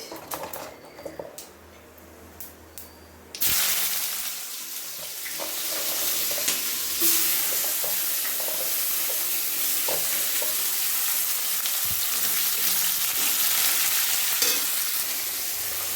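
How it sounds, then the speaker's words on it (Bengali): Onions frying in mustard oil in a pan at home, a steady loud sizzle that swells after a quiet start, with occasional stirring scrapes and no talk. "পেঁয়াজটা ভালো করে ভেজে নেব লাল লাল করে পেঁয়াজটা ভেজে নেব"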